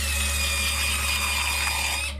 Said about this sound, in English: They drill into your tooth